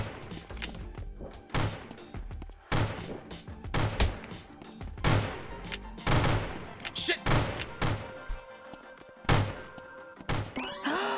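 Video game gunfire in rapid sharp bursts and volleys recurring through the stretch, with thuds and impacts mixed in, loud and busy against a game soundtrack.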